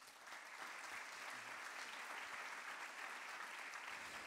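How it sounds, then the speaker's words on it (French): Audience at an award ceremony for the Claude Nougaro writing prize breaks into sustained applause, a dense even patter of many hands, fairly faint and distant, with no voices over it. "Applaudissements pour la catégorie nouvelle."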